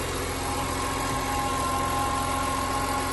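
A 2004 BMW M3 E46 idles smoothly and evenly, a steady, close engine hum with no revving and no voices.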